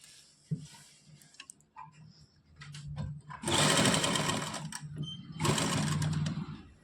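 A sewing machine stitches piping along the edge of a kameez, with quiet handling at first and then two loud, steady runs of rapid whirring stitches close by.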